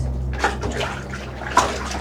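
Hot water runs from the tap into a motel bathtub to rinse dishes, a steady close rushing splash throughout with a couple of brief louder sloshes.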